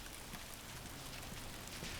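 Rain falls steadily on the Pacific Crest Trail, a dense, even hiss of drops hitting the ground and surroundings, soft and continuous with no voices.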